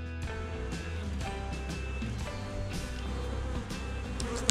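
A healthy honeybee colony hums in a spring hive full of pollen, nectar and honey, a close, steady buzz that stays even throughout with individual bees droning past, and no talk.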